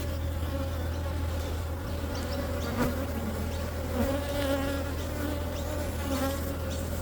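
Honey bees hum in a dense, continuous drone at close range while a beehive is opened for a late-December inspection, with faint occasional handling noises and no talk.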